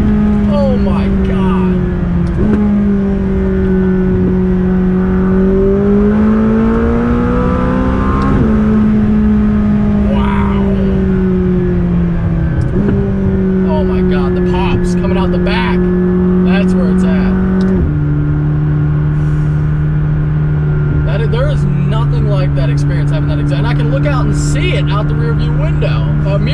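A loud McLaren 600LT engine revs and holds steady drones, shifting pitch in steps, with exhaust crackles and pops scattered through; voices talk over it.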